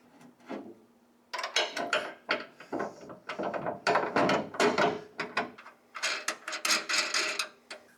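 A bolt being fitted into the engine bay of a 1974 Ford F100, with close, quiet bursts of metallic clicking, scraping and rattling handling noise separated by brief pauses.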